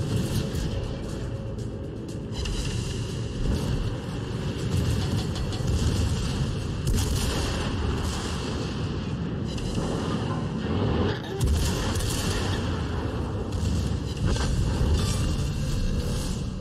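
Heavy naval guns firing in World of Warships, with booming salvos and a steady low rumble of battle beneath, loud and continuous, and game voice announcements in between.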